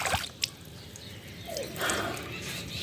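Used washing water draining out through a crack, soft drips and a gentle trickle close by, with a faint voice partway through.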